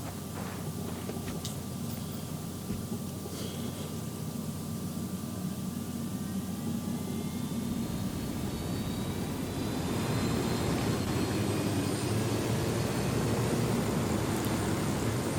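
A steady, droning video-game helicopter rotor and engine roar holds throughout, swelling slightly louder partway through, with no voices.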